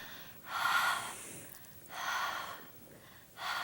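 During an ab exercise, a person breathes out in three forceful, audible exhalations spaced about a second apart, close and breathy, with no talk.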